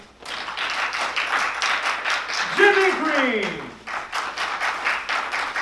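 Audience applause at an original play, a steady patter of many hands clapping close by while a man announces a cast member's name over it.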